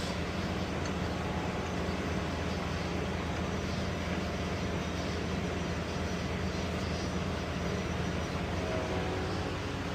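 A tanker truck's air compressor runs at a steady, loud, unbroken roar with a dense droning rumble, no pauses or changes throughout.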